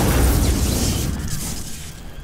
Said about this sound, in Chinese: 哇，爆炸吗？